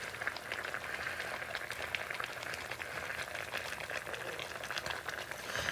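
Sauce in a wok thickened with potato starch, a steady soft bubbling and crackling simmer with small rapid pops throughout, quiet and close with no talk.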